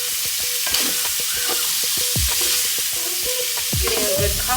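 Shrimp frying in a pan on a home stove, broccoli cooking nearby, giving a steady close sizzle with utensil clinks and scraping strokes throughout, no talking.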